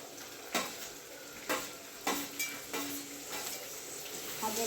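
Roasted tomato sautéed in a pan, stirred with a utensil that clacks against the metal every second or so over a steady background hiss of frying, up close.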